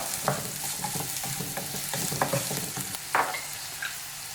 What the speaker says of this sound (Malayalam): ഇനി നമുക്കിതിലേക്ക് 1 സവാള ഇതുപോലെ ചെറുതായിട്ട് മുറിച്ചത് ഇട്ട് കൊടുക്കാം. ചെറിയ സവാള എന്നുണ്ടെങ്കിൽ 2 എണ്ണം ഉപയോഗിക്കാം കേട്ടോ. നന്നായിട്ടൊന്ന് ഇളക്കി കൊടുക്കാം.